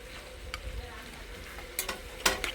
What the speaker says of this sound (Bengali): মাংসটা কষানো হচ্ছে